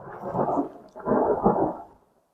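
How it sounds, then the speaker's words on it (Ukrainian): Thunder in the Romanian mountains at about 1200 meters, two heavy rolling rumbles one after another, each swelling and fading over about a second before dying into quiet. "тут такий м'ясистий грім гримить"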